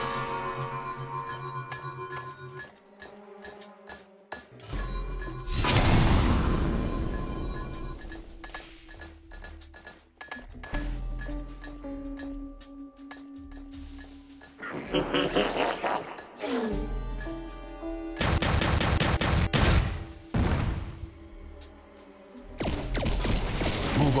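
Gunfire in the strategy video game Iron Marines Invasion, repeated bursts of broadband blasts clustered in loud volleys against a steady game music bed, with a voice speaking now and then.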